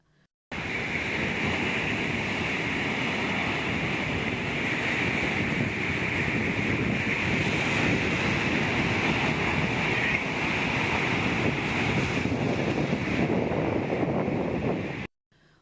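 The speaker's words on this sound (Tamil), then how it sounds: "வழக்கத்திற்கு மாறாக கடல் அலைகள் உயரமாக எழும்பி வருகின்றன" Rough, unusually high sea waves pound Auroville beach, a loud continuous roar of surf with wind buffeting the microphone, steady from start to finish with no voices.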